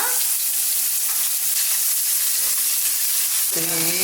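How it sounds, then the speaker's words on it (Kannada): Cumin seeds and onion frying in plenty of oil in a home kitchen, a steady close sizzle with a broadband hiss throughout and a brief tonal clatter near the end, with no talking. "ಜೀರಿಗೆ ಹಾಕೋಣ, ಸ್ವಲ್ಪ ಫ್ರೈ ಆಗಲಿ ಜೀರಿಗೆ. ಆನಿಯನ್ ಫ್ರೈ ಮಾಡೋಣ"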